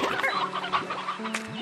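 Chickens in the Slime Rancher 2 video game cluck and chatter near a coop, several quick bird calls overlapping in a busy, close flurry with no talk over them.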